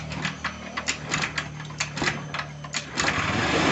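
A motorcycle engine with electrical and wiring troubles is cranked on the electric starter, giving a rapid rhythmic chugging of repeated turnover pulses that settles into a steadier running sound near the end.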